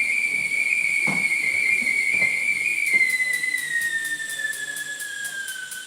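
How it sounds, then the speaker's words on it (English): A tea kettle on the stove whistles with a steady high shrill tone that slowly sags in pitch, with a faint pulsing flutter in its second half, close and alone. "tea kettle that is calling me practically."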